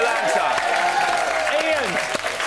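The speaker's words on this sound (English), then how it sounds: "Give her a big round of applause." Studio audience applauding on the British TV show Big Brother's Little Brother, a short burst of loud, steady clapping with a presenter's voice carrying over it.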